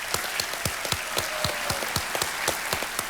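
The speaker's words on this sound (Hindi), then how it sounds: "एक बार फिर तालियां बज जाएं पंकज पचौरी जी के" Studio audience applause on the Kaun Banega Crorepati (KBC) season 10 quiz show set: dense, steady clapping from a crowd, sustained evenly for the whole stretch with no voices over it.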